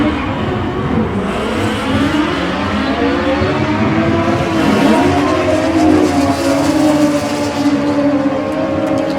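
Gen 1 Suzuki Hayabusa motorcycles drag racing at the Mancup World Finals, a loud, continuous high-revving engine roar with rising and falling pitch sweeps as the bikes accelerate hard down the strip.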